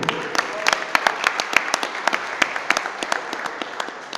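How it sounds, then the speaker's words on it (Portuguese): Inside a church, a congregation claps in scattered, uneven bursts, a smaller crowd whose individual hand claps stand out sharply and fairly close. "Você pode aplaudir a palavra do Senhor?"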